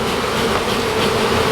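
A swarm of bees hidden in a shed floor gives off a loud, steady, close buzzing drone that holds unbroken throughout, with no voices.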